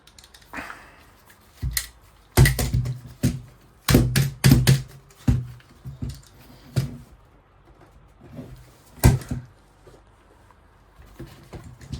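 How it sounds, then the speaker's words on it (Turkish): Handguard being pried off an Aksa Crossfire 36-caliber shotgun, close bursts of sharp clicks, knocks and scraping of metal and stock parts separated by quiet pauses. "Şimdi el kundağını tüfekten üst gövdeden ayıracağım. Ama bunlar bazen sıkışmış olabiliyor."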